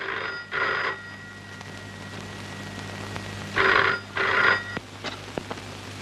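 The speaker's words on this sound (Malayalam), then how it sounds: "രജനിക്ക് ഫോൺ വന്നിരിക്കുന്നെന്ന് പറയും." An old landline telephone bell rings in two double bursts, the second pair a few seconds after the first, with a steady low hum beneath and no talk.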